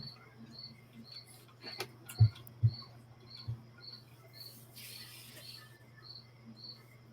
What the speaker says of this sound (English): Let me go shut my front door and see if maybe that'll help the cricket sound.